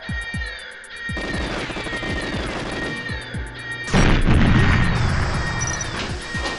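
Planted remote charges detonate in the Nintendo 64 shooter GoldenEye 007: a series of loud, crunchy blasts over a busy game soundtrack, then a heavier, sustained explosion near the end.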